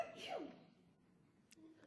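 A single sneeze bursts out at the start, fairly close but modest in level, followed by a quiet room with faint small noises.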